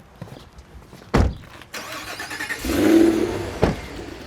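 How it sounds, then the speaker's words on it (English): Remote cold start of a car engine, 2025 Cadillac Escalade V, with a thump, a cranking catch and a rising rev that settles, heard from nearby outdoors without talk. "the first cold start of the day is gnarly, and then they progressively get less gnarly"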